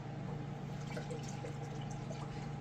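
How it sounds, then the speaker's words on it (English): Water poured steadily into a bowl or container of grapes for bulk washing, a continuous close liquid rush with faint dripping, alone without talk. "Put in the water in first so that way it doesn't clump up."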